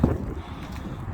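Wind buffets a microphone beside a sailboat just launched into the water, a steady low rumbling roar with a thump at the start, close and loud throughout the short moment.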